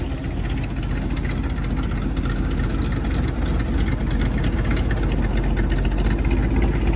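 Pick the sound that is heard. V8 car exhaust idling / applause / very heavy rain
V8 car exhaust idling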